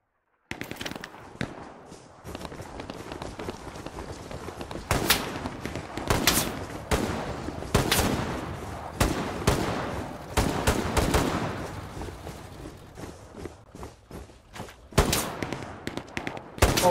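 Gunfire in the World War II shooter Hell Let Loose crackles in scattered single shots and rapid bursts, some close and sharp, others more distant, rising into heavier volleys.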